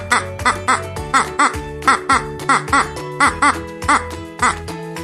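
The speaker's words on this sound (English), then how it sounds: "Duck." A duck call in a children's bird-learning song, with about ten repeated quacks in a steady rhythm over musical backing. The quacks are loud and sit close up front.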